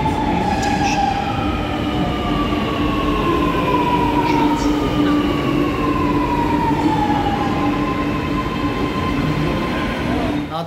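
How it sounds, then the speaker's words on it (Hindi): A metro train rumbles loudly close by, with a long whining electric tone gliding downward as it pulls in and slows. "मेट्रो आ गई।"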